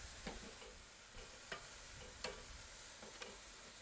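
Strips of tile meat sizzle steadily on a hot oiled kettle grill, with a few sharp scraping clicks as the pieces are turned; no talking.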